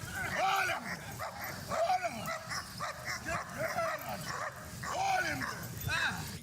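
Security dogs from a resort K9 unit, breeds such as Belgian Malinois and German Spitz, bark and yip in repeated bursts at close range, with a steady rhythm of barks across the stretch and background noise throughout.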